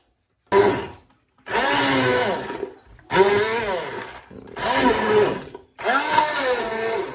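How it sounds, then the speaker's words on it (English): A hand blender purees carrot and beetroot soup right in the pan, whirring in five short pulsed bursts with brief pauses between, loud and close, its motor pitch wavering as it churns. "I have one of these hand blenders. They work absolutely fine."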